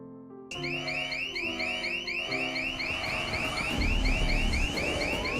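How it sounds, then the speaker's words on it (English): A bank security alarm blares loud and steady after a brief silent start, with a rapid repeating electronic warble that continues throughout. "suddenly, the security alarm blared loudly"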